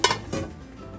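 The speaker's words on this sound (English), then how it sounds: "put the lid back on, and wait until it cooks" A metal lid set back onto a cooking pot holding collard and kale greens: a quick clattering clink at the start, then a softer second knock as it settles, close by with no talking.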